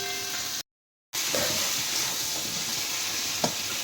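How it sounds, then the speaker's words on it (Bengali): Onions fry in hot oil, a steady close sizzle with a brief cut to silence, then occasional stirring scrapes and a clink near the end. "পেঁয়াজটা একটু ভালো করে লাল লাল করে সুন্দর করে একটু ভেজে নেবো ঢেকে ঢেকে"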